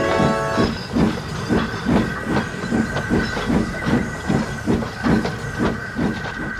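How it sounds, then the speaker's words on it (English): Steam locomotive Flying Scotsman backs down onto a train, with a steady hiss of steam and a rhythmic chuffing and clatter of wheels, loud and close throughout. "The passengers were even more delighted to see Flying Scotsman backing down on their train to take them the rest of the way"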